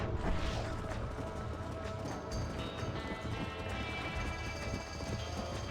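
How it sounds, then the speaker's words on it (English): A horse gallops in the Red Dead Redemption video game, with steady rapid hoofbeats over a low rumbling background and a brief whinny near the start, fairly quiet overall. "¿Estás viendo cómo corre el caballo?"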